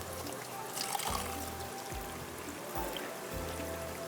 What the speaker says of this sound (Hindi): 2-3 दफ़ा पानी से धोएंगे तो इसकी बू जो है वो ख़त्म हो जाती है।